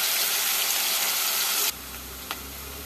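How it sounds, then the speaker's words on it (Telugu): Chopped onion sizzling in hot oil in a home kitchen pan, a loud, close, hissing fry that cuts off abruptly partway through, leaving a quieter background. "ఉల్లిగడ్డ కొంచెం వేగాలి నూనెలో"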